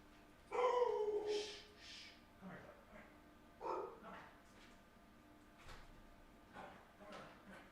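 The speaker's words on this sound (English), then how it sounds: "I think someone is at the door knocking, trying to get me to vote or something, but the dog is upset." Upset dog barks and whimpers at someone knocking at the front door, a cluster of sharp yelps and whines near the start, then scattered quieter whimpers and movement in a room.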